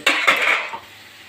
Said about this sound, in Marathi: थोडं पाणी घालते यामध्ये, थोडं घट्ट येते